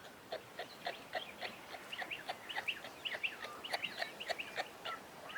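A male kangaroo gives a rapid series of soft clucks in an uneven rhythm, building to denser bursts of sharper squeaky calls, fairly close, with no speech.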